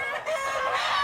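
A rooster crowing on a farm, one loud, drawn-out crow close by that rises and holds to its end, with no talk.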